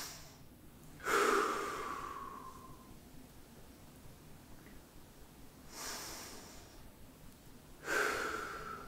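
Slow, deep breaths held during a shoulder stretch, close and fairly soft, with long gaps of quiet between the breathy inhales and exhales.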